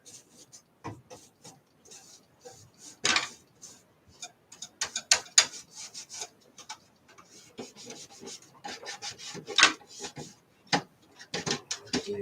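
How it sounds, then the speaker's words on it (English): A wipe scrubs crud off a panel of a black ATX computer case holding a 486 DX4/100, with close, irregular rubbing and scraping strokes in bursts and short pauses between. "We'll take this wipe, just get all the crud around here off of it."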